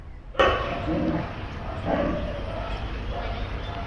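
Adult dogs bark repeatedly at a moderate distance at an animal shelter in Phuket, Thailand, over a constant noisy background, several woofs spaced about a second apart.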